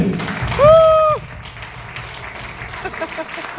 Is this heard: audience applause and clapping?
yes